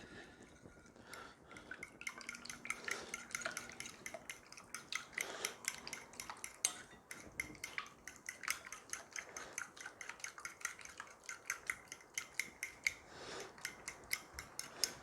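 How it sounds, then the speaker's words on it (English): Keto blueberry bread batter with Greek yogurt and other wet ingredients is stirred in a bowl, producing quick, rhythmic clicks and scrapes of a utensil against the bowl, fairly quiet and continuous. "Then I'm just gonna mix it all up"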